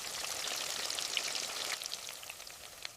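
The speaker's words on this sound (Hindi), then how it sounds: "तेल गरम हो जाए तो उसमें सारे कोफ्ते गोल्डन ब्राउन होने तक फ्राई कर लूँगी।" Koftas frying in hot oil in a kadai, a steady close crackle and sizzle with scattered popping bursts throughout.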